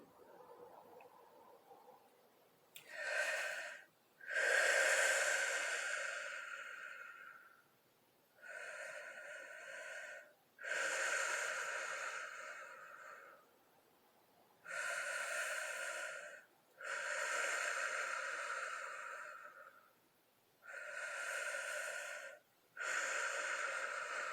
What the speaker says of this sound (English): taking 5 breaths and the exhale twice as long as the inhale